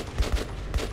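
Gunfire in Metro 2033 Redux, a quick burst of three or four sharp, moderately loud shots in about a second, with no talk.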